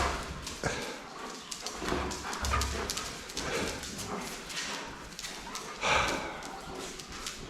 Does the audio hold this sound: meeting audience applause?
no